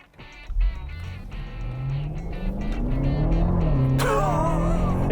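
A 2020 BMW X5 M Competition SUV with 617 hp accelerates hard from close range, its engine note climbing steadily through the gears, loud and alone with no talk.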